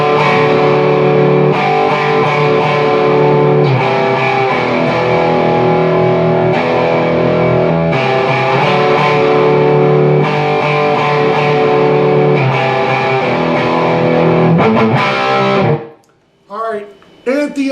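Distorted electric guitar plays the chorus of a song, loud, steady chord changes for about fifteen seconds before cutting off, followed by a brief voice.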